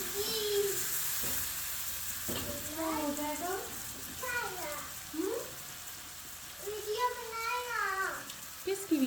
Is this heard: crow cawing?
no